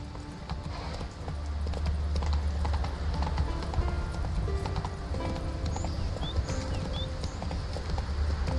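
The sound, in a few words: horse hooves clip-clop in video game Witcher 3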